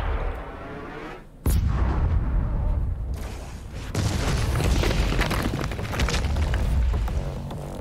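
The BFG in DOOM Eternal fires and explodes with a sudden heavy boom, then a sustained roaring blast rumbles for several seconds. A quieter buildup comes before it, and there is no speech.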